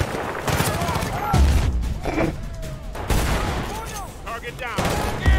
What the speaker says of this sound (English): I cooked the grenade and threw it in the strangest way possible